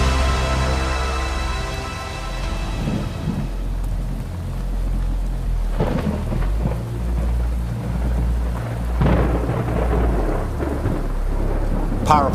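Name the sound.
thunderstorm with thunder and rain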